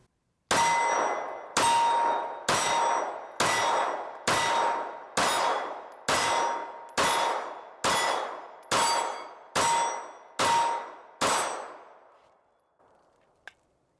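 A Glock 45 pistol slide racked home repeatedly, about eleven sharp metallic clacks in a steady rhythm, each ringing briefly, close and loud with no voices.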